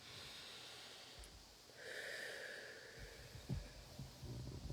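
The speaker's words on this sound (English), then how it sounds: "Big deep breath." One person draws a slow, deep breath through the nose and then lets it out, soft and close, with faint rustles and low bumps near the end. No words are spoken.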